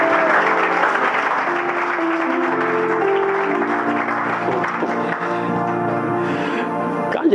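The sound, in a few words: congregation applauding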